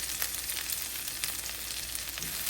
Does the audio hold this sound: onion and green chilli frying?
yes